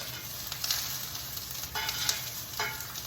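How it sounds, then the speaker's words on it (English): Onions brown and sizzle in a hot pan, a soft steady frying hiss with a few brief stirring scrapes, heard alone at low volume. "these onions are browning a little bit"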